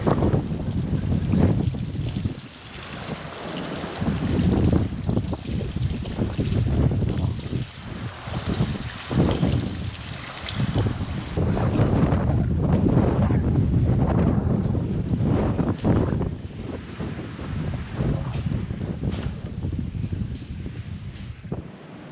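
Strong, continuous wind at Les Sables d'Olonne buffets the microphone for the whole stretch, roaring in low gusts with no clear pauses.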